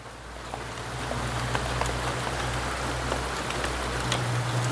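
Steady rain hisses evenly throughout, with a low droning hum underneath and no voices.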